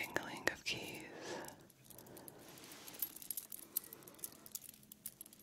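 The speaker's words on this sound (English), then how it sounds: "The jingling of keys." Soft metallic jingling of keys close by, scattered light clinks over quiet whispering in an ASMR setting.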